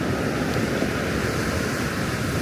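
Fast-moving sea water surging as waves at Spekes Mill, a steady, loud, unbroken wash of surf with wind buffeting the microphone throughout, no voices.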